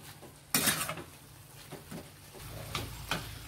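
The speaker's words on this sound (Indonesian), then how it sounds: "Oke, kita aduk rata." Fried kwetiau noodles with green mustard greens being stirred in a pan, a series of close metallic scrapes and clinks of the utensil over a low background hum, no talk.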